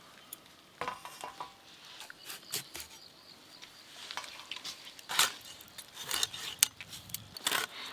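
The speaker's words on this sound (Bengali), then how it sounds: "বেগুনগুলো সব কেটে নেব, একবারে নরম।" A knife slices through soft, freshly picked eggplants, producing scattered light taps and scrapes of blade on board, irregular and close, with small clinks in between and no talking.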